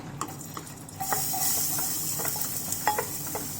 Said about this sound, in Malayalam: സ്റ്റാർ അനീസും സിന്നമണും കാർഡമവും ക്ലോവ്സും കൂടി ഇതിനകത്തോട്ട് ഇട്ട് കൊടുക്കുകയാണ്.